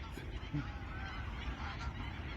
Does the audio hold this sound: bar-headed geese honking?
yes